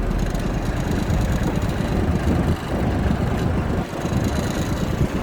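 A tractor engine idling just after starting, a steady close mechanical rumble with rattling vibration and two brief dips in level, no voices.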